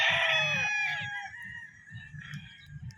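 A white claret yellow-legged rooster on a farm crows once, loud and close, the call trailing off after about a second, followed by softer clucks and low scratchy farmyard rustling.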